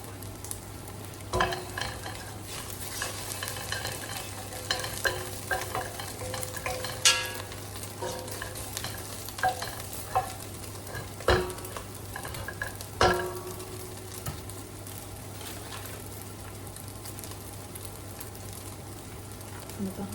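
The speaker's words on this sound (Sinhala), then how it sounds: "තෙල් වලටම දාගමු මිරිස් ටිකක්." Chili frying in hot oil for an egg pasta dish, stirred now and then, with a steady close sizzle broken by scraping clicks of a utensil against the pan, and no talk.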